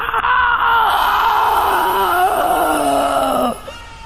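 A loud, sustained high scream from Juno in a horror tale, a wailing cry that holds for about three and a half seconds with wavering pitch before dropping off abruptly.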